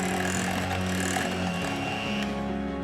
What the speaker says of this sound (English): we're gonna go on low speed with this mixer and get everything incorporated